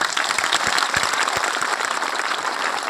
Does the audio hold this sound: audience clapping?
yes